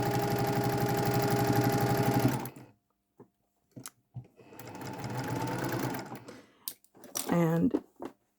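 A sewing machine stitches two lined-up fabric pieces in a steady whirring run, then starts again after a pause with a shorter burst, close and fairly loud, with handling noises and a brief voice near the end.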